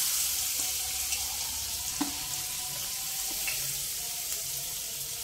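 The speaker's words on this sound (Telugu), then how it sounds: "ఇది వేగినాయి కదా, ఉల్లిపాయలు వేసుకుందాం." Onions fry in a pan for an eggplant and green pea curry, a steady soft sizzle with occasional light clicks of stirring, close but fairly quiet and without talk.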